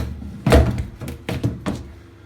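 Lower chrome denture being placed into a dental boil-out machine: a heavy thunk of the lid closing, followed by a few softer knocks and clatters nearby, with no talking.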